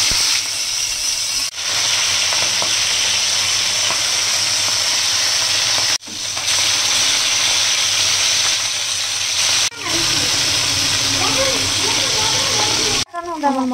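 Poa fish sizzle in hot oil in a wok, a loud continuous frying hiss with brief breaks, while someone talks over it.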